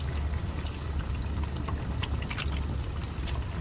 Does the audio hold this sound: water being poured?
yes